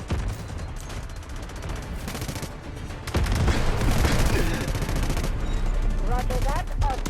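A dense, loud fusillade of gunfire and artillery barrage sound effects, with continuous rapid machine-gun bursts and rumbling booms that intensify partway through, layered over talk.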